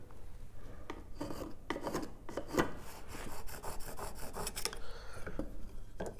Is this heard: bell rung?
no